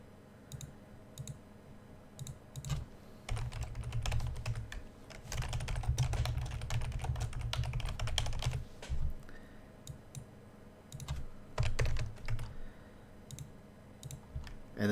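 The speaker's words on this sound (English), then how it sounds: "so we can type in some stuff" Someone types on a computer keyboard to fill in a JavaFX form. Bursts of quick, close clicking keystrokes come in irregular runs with short pauses between them, and no one speaks.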